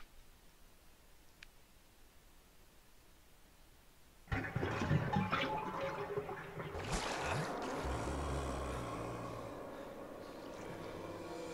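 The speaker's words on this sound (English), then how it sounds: "It's full of dirty water. Let's remove the plug." Dirty water drains from a bathtub in Resident Evil HD Remaster after the plug is pulled. Faint quiet gives way to a sudden loud gurgling rush that keeps draining steadily to the end, with no voices.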